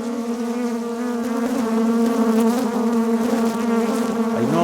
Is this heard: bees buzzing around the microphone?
yes